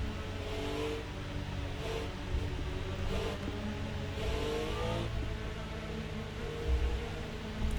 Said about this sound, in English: the engine sounds are very close to what you would hear in the actual race itself